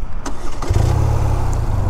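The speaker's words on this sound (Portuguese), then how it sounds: "E bora acelerar essa máquina." A 2025 BMW R 12 cruiser motorcycle engine fires and settles into a steady low rumble, close and loud, with a few faint clicks at the start.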